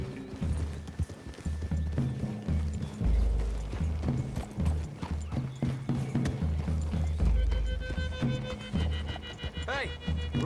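Rhythmic hoofbeats of horses trotting thud steadily under a music bed in the video game Red Dead Redemption 2, with a whinny near the end and voices talking over it.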